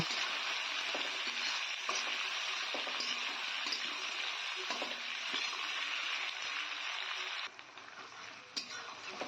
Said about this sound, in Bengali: সেই আলুগুলো দিলাম এখন খুব সুন্দর করে নেড়ে চেড়ে আরও কিছুক্ষণ ভেজে নেব